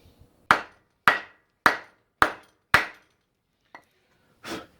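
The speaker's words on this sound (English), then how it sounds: "just give it a little tap to start it off" Light hammer taps drive a part into place on a Ford ZF Fairlane under restoration, with five sharp, evenly spaced metallic knocks followed by a fainter tap and one softer final hit, in a quiet setting.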